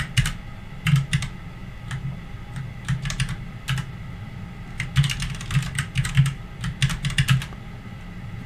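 Keys on a computer keyboard clack in quick bursts as someone types a terminal command, crisp nearby taps arriving in irregular clusters with brief pauses between them, no talking.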